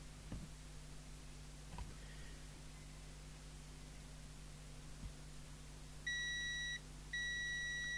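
A multimeter set to continuity beeps while testing a Grandstand P2004 CB handheld radio's aerial wire, giving two short steady tones near the end after faint probe clicks over a quiet hiss.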